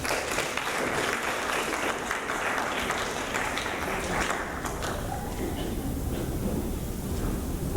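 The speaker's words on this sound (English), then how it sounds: "Go ahead and give him a big round of applause." An audience at a spoken word event breaks into sustained, dense applause that stays loud for several seconds and then gradually thins out toward the end.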